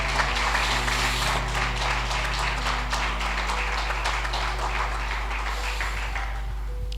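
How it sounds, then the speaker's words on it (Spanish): Church congregation applauding during a Spanish-language Sunday service: a sustained wash of many hands clapping over a constant low hum, steady throughout and easing off near the end, no speech on top. "Dale un fuerte aplauso al Señor en este día."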